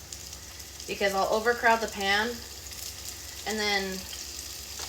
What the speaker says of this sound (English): our oil is hot. We're going to just take our beef, and we're just going to like put it in the bottom of the pan